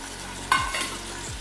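Green peas stirred in hot oil for a vegetable pulao, with one quick, close scrape of a spoon over a soft, continuous frying hiss.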